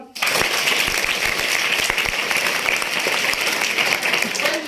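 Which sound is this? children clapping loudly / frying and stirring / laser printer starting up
children clapping loudly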